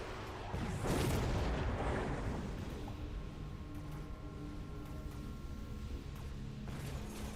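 Missile strike explosions in the strategy game Mechabellum: a deep boom lands about a second in, then rumbling blasts and crackle fade under a steady game hum, fairly faint overall.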